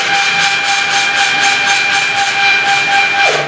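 Y-axis stepper motors on a self-built CNC plasma cutting machine run with a steady, loud droning whine and a faint rhythmic pulsing throughout, with a brief falling tone near the end.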